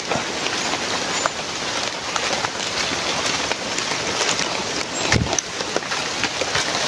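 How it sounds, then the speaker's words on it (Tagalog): Steady rain patters across a surface, a dense, even hiss with no voices, holding at the same level throughout. "Kaya lang umuulan."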